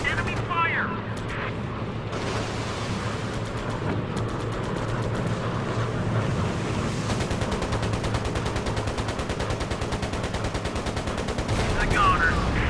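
Enemy aircraft gunfire in the video game Air Conflicts Pacific Carriers, with dense rapid machine-gun bursts rattling continuously over engine drone. A voice speaks over the loud barrage.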